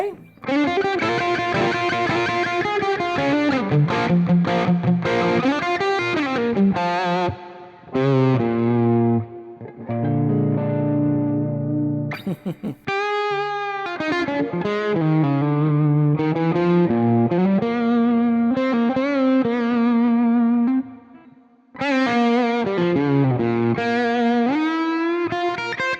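A Yamaha Pacifica electric guitar plays through crunchy distortion and effects, with sustained chords and melodic lines that fill the clip loudly, dropping out briefly twice.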